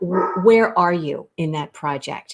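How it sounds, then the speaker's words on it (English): A dog barks close by, briefly and mixed in with a person's steady talk indoors. "that's my dog. Do you hear my dog?"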